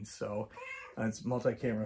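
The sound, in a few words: cat meowing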